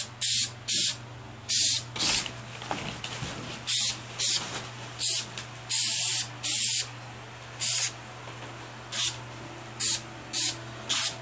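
An aerosol can sprays light coats of coating onto a Power Rangers legacy movie morpher prop in about a dozen short, loud hissing bursts with brief pauses between them, under a steady low hum.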